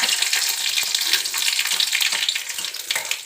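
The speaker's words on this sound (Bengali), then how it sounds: "আমি সর্ষে আর কালো জিরে ফোড়ন দিলাম আর দুটো শুকনো লঙ্কা দিলাম" Mustard seeds, black cumin and two dried chillies fry in hot oil for an amla pickle, producing a loud, continuous close-up sizzle with dense crackling pops.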